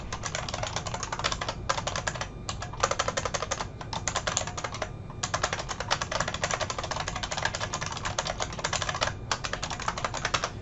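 Rapid, steady typing of code on a computer keyboard, dense clattering keystrokes in long runs broken by brief pauses, close and alone without any speech.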